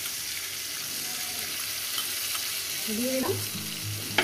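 Spice paste fries with tomatoes and a splash of water in a pan, giving an even, close hiss of sizzling. Someone speaks briefly over it near the end, followed by a single sharp utensil knock.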